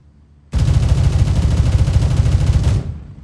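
Stock M4 rifle in Gray Zone Warfare fired in one sustained full-auto burst of roughly two and a quarter seconds, loud, close and rapid, then stopping abruptly with a brief tail.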